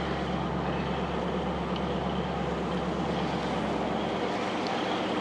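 A 1956 Ford Thunderbird with a 312 ci V8 idles steadily, a low, even engine rumble with constant broadband noise, heard close and without talk throughout.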